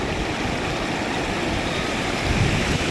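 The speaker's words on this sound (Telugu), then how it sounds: "ఇదైతే బాపట్ల బీచ్ మామ." Waves at Bapatla beach rush in as a steady, loud, broadband roar of surf, continuous throughout with a brief swell near the end; no talking.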